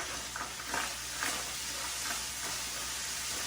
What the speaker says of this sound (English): I'm going to add in, the garlic now. Stir that in.